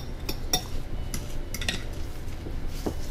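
Snack ingredients are stirred together in a bowl, with a utensil clinking and scraping against the dish in scattered light taps over a soft background.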